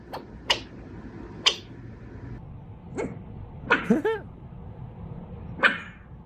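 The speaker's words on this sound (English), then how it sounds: "That's a bark." A dog barks several times in sharp, separate bursts over roughly six seconds, fairly close and loud, with short gaps between barks and one quick yelping cluster in the middle.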